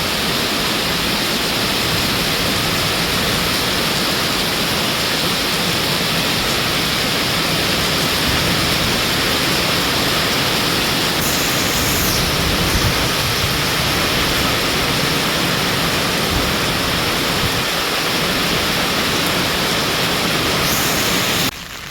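Heavy rain falling steadily as a dense, continuous broadband wash, loud and close throughout with no pauses and no talking.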